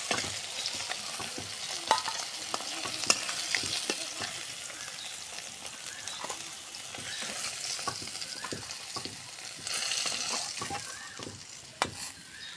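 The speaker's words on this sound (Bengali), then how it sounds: "ভাজা হয়ে গেছে, তুলে নেব।" Fish frying in oil gives a steady, close crackling sizzle that runs throughout, with scattered sharper pops and spatters rising and falling in intensity.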